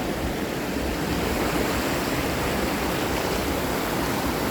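Strong river water rushes past at Tung Chung River, a dense, steady roar that fills the whole clip with no pauses and no voices.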